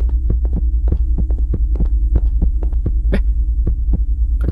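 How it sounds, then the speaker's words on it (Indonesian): Heartbeat effect in the video game Grandpa & Granny 4, a loud, deep thumping pulse repeating in a fast, steady rhythm over a low droning hum, with no talking. "Tapi ini detak jantungnya masih kenceng loh."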